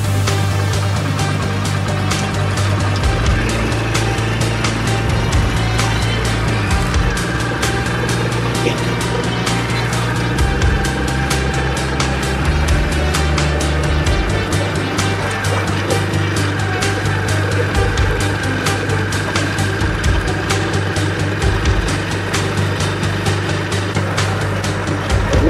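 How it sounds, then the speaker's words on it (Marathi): Vehicles on a winding mountain ghat road produce a steady, droning engine rumble with a strong low hum and faint high hiss, continuous and moderately loud throughout with no talk. "बघा त्या गाड्या आपल्याला दिसत आहे घाटातून जाताना"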